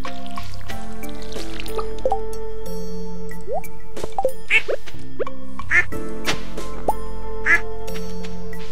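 Cartoonish duck quacks from Stardew Valley sound several times over looping game music, with watery dripping and squishing effects and a speaking voice underneath.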